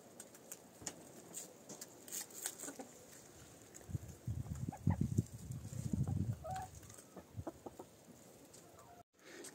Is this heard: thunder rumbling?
no